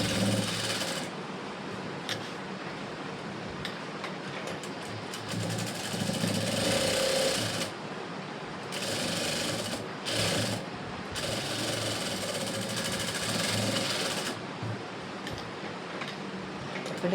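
A sewing machine stitching a blouse, its motor whirring in long rapid runs broken by short pauses, loud and close throughout.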